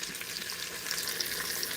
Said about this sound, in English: this is taking a while to saute this